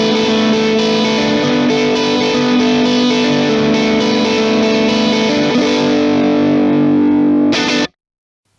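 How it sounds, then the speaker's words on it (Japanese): Electric guitar played through an Origin Effects Revival Drive Compact overdrive pedal, a loud, steady sustained chord with a broad, full range that rings alone for about eight seconds before cutting off abruptly. "リバイバルドライブは上から下までどっしりとした広いレンジを持ってます"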